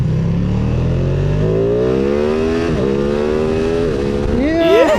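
A 2022 Ducati Streetfighter V2 naked motorcycle revs up through rising engine tones under hard acceleration, with brief dips at gear changes and a final climbing whine, loud and close throughout while a rider's voice cuts in at moments.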